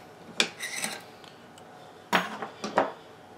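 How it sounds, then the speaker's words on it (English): Parts of an AK rifle are taken apart as the receiver cover, recoil guide and spring come off, giving a few brief metallic scrapes, clicks and rattles close by, with quiet pauses between them. "Next thing we're going to remove is the receiver cover. Then the guide and spring."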